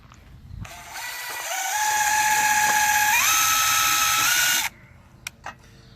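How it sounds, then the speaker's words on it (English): A power drill bores into a wooden strawberry half-pipe planter, whining loud and close for about four seconds, pitch stepping up as it speeds, then stopping abruptly with a couple of small knocks. "then we can go back and drill all the rest of the holes"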